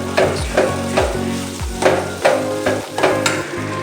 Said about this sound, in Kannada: ಈ ಥರ ತರಕಾರಿ ಎಲ್ಲ ಚೆನ್ನಾಗಿ ಫ್ರೈ ಆಗಿದೆ ಮತ್ತು ರೈಸ್ ಹಾಕ್ಕೊಳ್ಳೋಣ.